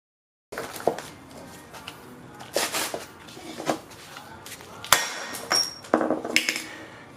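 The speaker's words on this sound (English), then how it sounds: "go ahead and hammer away at this and you'll slowly get the bearing pressed out" Hammer blows knock a wheel bearing out of a 1997–2001 Honda Prelude front hub, several irregular sharp metallic strikes close up with short pauses between them.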